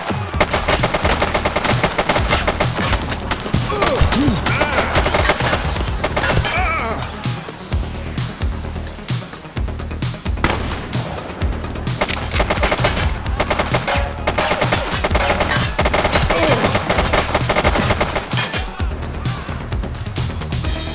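Dense, sustained gunfire with rapid automatic bursts and crashing impacts fills a shootout in the police video game The Precinct, loud and continuous throughout.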